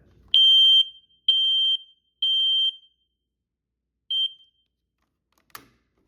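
A FireX I4618 smoke alarm under test gives four sharp, loud beeps, the first three evenly spaced and the last after a pause, ending with a brief click in a quiet room.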